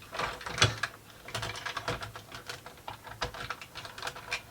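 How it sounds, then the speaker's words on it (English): Small screws go back into a plastic motorized toy battle tank. Faint clicks and ticking, ratchet-like taps from a screwdriver come in quick irregular bursts, close and quiet, with no talking. "now put the screws back in"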